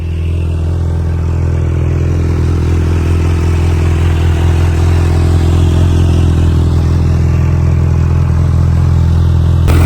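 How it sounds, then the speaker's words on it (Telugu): A motorcycle engine idles steadily on its own to warm up before a ride, a loud, close, unbroken low rumble with light mechanical clatter and no change in revs. "బైక్ అయితే ఆన్ చేసి పెట్టిన, ఎందుకనంటే ఇంజన్ అట్లీస్ట్ ఒక 10 to 15 seconds అన్న హీట్ కావాలి"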